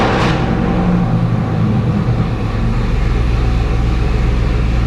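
A cammed truck engine idles with a lumpy, loping rumble, steady and close throughout, with no voices over it.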